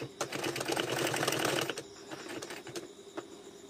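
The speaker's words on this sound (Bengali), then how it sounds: "2 ভাঁজ করে নিয়ে এটার উপর দিয়ে আমি এখন সেলাই করে দিচ্ছি।" Close sewing machine stitching along a folded blouse sleeve: a steady rapid mechanical chatter for about a second and a half, then slower intermittent clicks and short runs, fairly loud with no talking over it.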